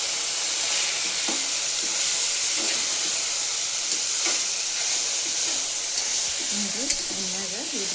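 Fenugreek leaves frying in oil for a rice pilaf, a continuous loud sizzle with occasional stirring clicks, and someone talking over it near the end.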